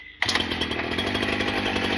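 A chainsaw is pull-started: a brief quiet gives way to a sudden catch as the engine fires, then it settles into a loud, steady buzzing idle close by, with no talking.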